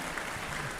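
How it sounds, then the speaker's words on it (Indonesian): Short, even applause from an audience at a spiritual talk, a soft, continuous patter of many hands clapping together. "Tepuk tangan nyoman."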